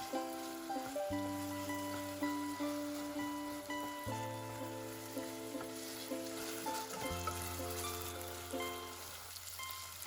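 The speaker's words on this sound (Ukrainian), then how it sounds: "Тепер додаю сюди рис і все разом ще просмажую хвилину." Rice and chopped tomato fry together in a pot for soup, giving a continuous soft sizzle and crackle beneath steady background music.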